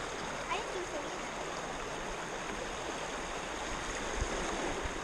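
Steady rushing and gurgling of a flowing West Virginia creek, continuous and fairly close, with no talk.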